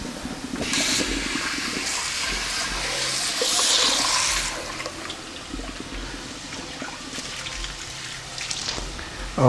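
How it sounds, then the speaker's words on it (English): Water from cooked rice pours out through a strainer for Persian eggplant tahchin, a loud rushing gush that tapers into a softer trickle and dripping. "I'm going to drain the rice."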